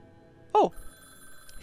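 A telephone in the video game Alchemy Mysteries gives one short, loud electronic ring burst against a quiet background.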